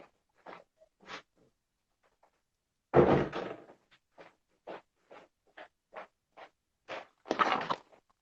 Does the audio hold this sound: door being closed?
yes